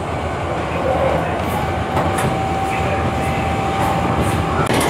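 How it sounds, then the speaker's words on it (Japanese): Loud, steady hum of a roughly 50-year-old traction motor on a 1956-built Tobu Railway car, under continuous rail rumble, with a sustained whine running through, heard from inside the car. "結構でかいモーターの音です。"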